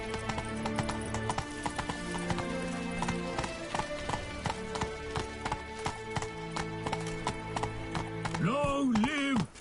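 Roach the horse gallops in The Witcher 3, its steady clip-clop hoofbeats running beneath loud, sustained game music, with a rising voice-like tone near the end.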